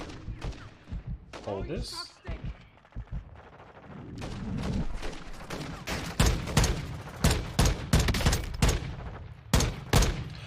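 Gunfire in the video game Modern Warfare II: scattered sharp shots that build into rapid bursts and volleys, loud and close, with brief speech early on.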